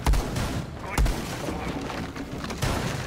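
Heavy shotgun blasts fired into a sturdy wall in Rainbow Six Siege, three loud booming reports spaced about a second apart over game background noise.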